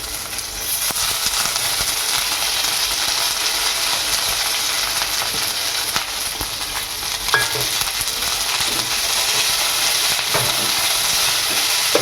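Drumstick (moringa) leaves frying in a pan for a thuvaiyal, a steady loud sizzle with faint stirring scrapes throughout, no voices.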